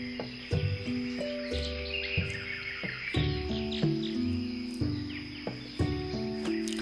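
Game-world bird chirps and tweets from Hamilton's Great Adventure sound over a looping musical backdrop of bright tones, with short calls scattered throughout at moderate volume.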